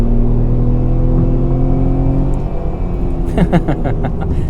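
A tuned BMW 3 Series diesel car revving nearby: a loud, steady engine drone, then sharper rising revs toward the end, with a voice talking briefly.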